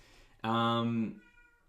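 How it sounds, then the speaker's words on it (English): A house cat lets out a single loud, drawn-out meow lasting under a second, close to the microphone, with quiet room tone before and after. "my cat going nuts"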